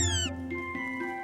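A cat character in a children's read-aloud of The Little Red Hen gives a short, clear meow that falls in pitch, close and alone, followed by a low steady tonal hum.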